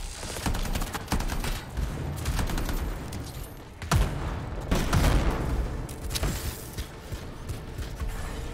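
Burst-fire weapon shooting in the sci-fi shooter game Anthem: dense, rapid volleys of shots crackle almost continuously, with heavier impacts near the four- and five-second marks, amid mechanical clatter and no talking.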